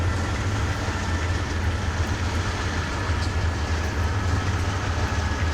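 A freight grain train led by a CN/IC locomotive rolls along in Train Simulator 2019 on Marias Pass, giving a constant loud low diesel rumble and rail noise with no talking.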